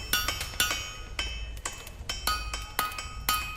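Smiths hammering metal while forging armor, a series of about a dozen sharp ringing metallic clinks in an uneven rhythm, fairly close and distinct, with no talking.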